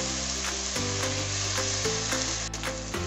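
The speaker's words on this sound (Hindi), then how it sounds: "टमाटो को भी अच्छे से फ्राई कर लेना है" Tomatoes fry in hot masala for egg biryani, giving a loud, steady sizzle with occasional stirring scrapes.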